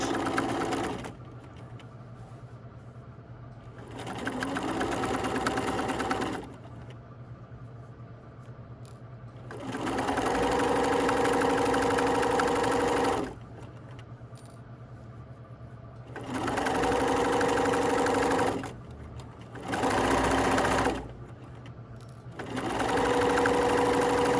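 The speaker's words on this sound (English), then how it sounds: "This is the point where your needle might break if you go too fast. Okay. And I just want to double check that I am still stitching on that folded edge." Sewing machine stitching along the folded edge of a fabric hood, running in several steady whirring bursts of a few seconds each, separated by short pauses, close and alone without talk.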